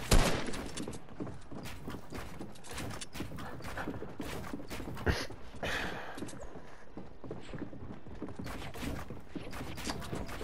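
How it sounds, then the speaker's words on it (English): Rapid bursts of video game gunfire crackle through the whole stretch, dense volleys with brief gaps and sharp louder shots. "We literally said stop shooting."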